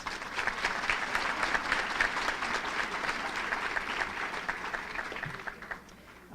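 An audience at a legislative forum in a banquet hall claps for event sponsors, a steady, even wash of applause that holds for several seconds and then tapers slightly at the end.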